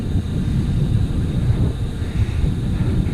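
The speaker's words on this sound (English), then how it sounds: "it's a southwesterly, but it's quite beefy wind, not gusty" A strong, steady southwesterly wind roars as a continuous low rumble with buffeting across the microphone, loud and close, holding at an even level without distinct gusts and with no voices.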